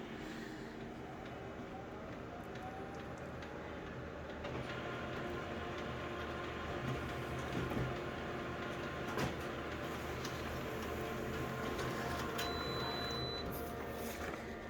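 Konica Minolta machine running while stabilising its image: a steady mechanical whir and rumble with intermittent clicks and knocks, moderately close and quiet, with no voices.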